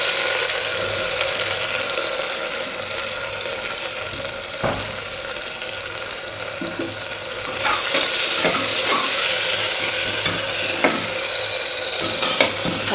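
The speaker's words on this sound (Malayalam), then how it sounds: "സവാള നല്ലതുപോലെ ഒന്ന് വഴന്ന് കിട്ടണം കേട്ടോ" Sliced onion sautés in a pan for mutton curry, giving a steady close sizzle with scraping stir strokes and occasional clinks, and no voices.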